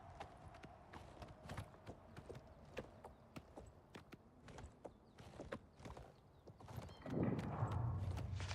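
Horse hooves clip-clop in a video game, a brisk, even run of close, crisp hoofbeats that continues for several seconds before a louder rustling burst near the end.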